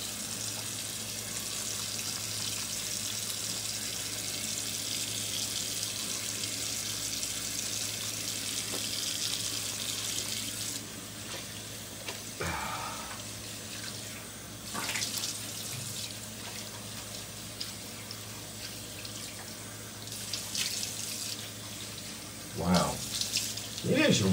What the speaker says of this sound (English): So I wash the face first.